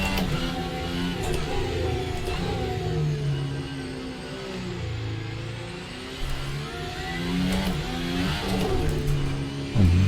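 An F1 car engine in the Assetto Corsa racing game drones through wet qualifying, a steady high whine that rises and falls with gear changes and throttle lifts, heard continuously and close.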